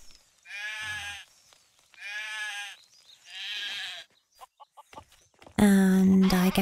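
Sheep in the video game Craft the World bleat three times in a row, each call clear and fairly loud, followed by a few faint clicks and then a dense burst of game sound to finish.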